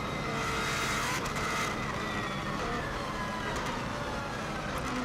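A 2016 Subaru WRX STI at speed on the Isle of Man TT course, its engine and road roar loud, close and steady throughout, with no voices.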